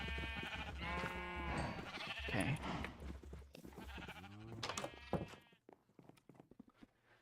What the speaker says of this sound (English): at least we can breed the blue sheep together